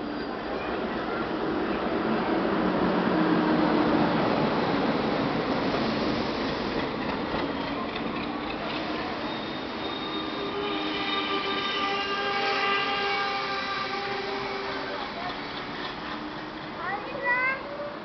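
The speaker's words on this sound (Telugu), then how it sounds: "ఆగుతుందా ఈ ట్రైన్ ఇక్కడ?" A passenger train pulls into a station and slows to a stop, a loud steady rumble of wagons with high wheel squeals and screeching brakes building toward the end, while people talk nearby.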